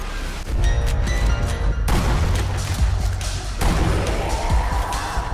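Sniper rifle shots in Sniper Elite: Nazi Zombie Army 2, two or three heavy booming blasts with sharp onsets, spaced a couple of seconds apart over a dense, loud battle backdrop.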